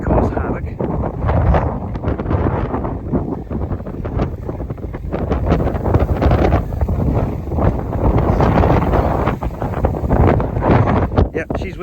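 Strong gusting wind buffets the microphone, a constant rough roar with bursts of rumble throughout.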